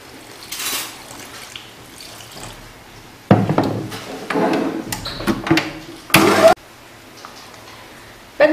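Warm tap water runs for brioche dough in a home kitchen, splashing in short gushes of varying strength separated by quieter handling noises, close to the listener.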